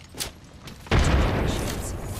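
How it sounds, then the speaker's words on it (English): A frag grenade goes off in a video game, one sudden heavy boom that cuts in loudly after a short quieter stretch and then rumbles on, filling the rest of the moment. "Thermite grenade out. Frag out."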